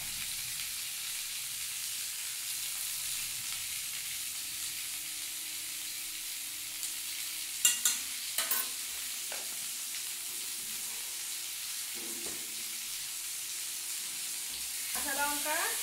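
Green chilli and nigella seeds sizzle in hot oil with salt and turmeric, a steady close frying hiss throughout, broken by a few sharp pops and stirring scrapes near the end.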